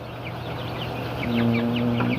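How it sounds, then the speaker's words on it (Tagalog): A batch of 82 newly arrived Class A broiler chicks peep in a dense, continuous chorus of short, high chirps, close and steady, with a low hum underneath. "yan ang aking mga bagong dating na sisiw"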